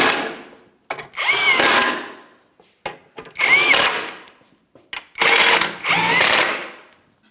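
A power tool tightens bolts on the idler arm of a 2007-2014 GMC Sierra 2500 HD in three loud, close bursts separated by short pauses, each winding up and down.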